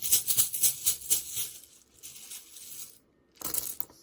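Quick papery riffling and flapping of cards being shuffled, in bursts with short pauses between, close by and fairly soft.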